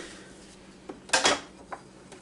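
A utensil scrapes and clanks against a cast iron pan while enchilada mix is stirred, a few short metallic knocks and one brief scraping burst, fairly close and otherwise quiet.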